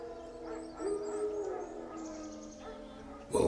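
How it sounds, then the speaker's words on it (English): Wild dogs in The Witcher 3 bark, yip and whine in a short burst of game audio, with yelps rising over a low ambient background and a louder outburst at the end. "Wild dogs."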